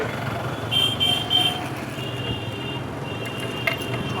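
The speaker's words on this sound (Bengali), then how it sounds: "হর্ন বাজিয়েই যাচ্ছে" A car horn toots three times in quick succession on an empty road, fairly near, followed by a steady motor drone and a fainter longer horn tone with road noise.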